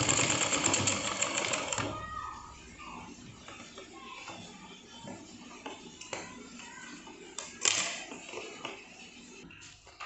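A sewing machine runs back stitches on a small Laddu Gopal dress, starting with a loud burst of dense whirring stitching, then quieter, intermittent machine sounds and fabric handling at close range.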